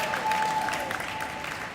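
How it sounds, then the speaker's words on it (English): Applause from a crowd at a junior hockey playoff game after the first period, a steady moderate patter of clapping across the arena, heard alone without talk. "everybody getting a round of applause here."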